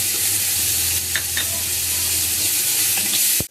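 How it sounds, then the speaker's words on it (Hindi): Garlic-ginger paste fries with browned onions in a pan for a kadhi pakora dish, a steady loud sizzle with occasional stirring scrapes and a sharp clink of utensil against the pan at the end. "4 चम्मच ले लिए लहसुन अदरक का पेस्ट, ये इसमें शामिल कर देंगे। इसको हल्का सा ब्राउन करेंगे।"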